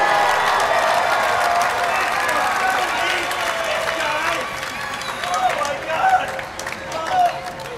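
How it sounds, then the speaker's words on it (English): Audience applauding and cheering for the winner of a 2013 belly flop contest, sustained dense clapping from a crowd with occasional shouts, steady and loud throughout. "Give them all a big round of applause right there, everybody"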